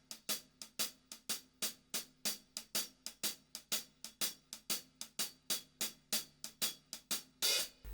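A drummer plays a shuffle on the hi-hat that shifts into a quarter-note triplet starting on beat 4: bright, close, steady swung strokes with a slightly washier, sustained hit near the end.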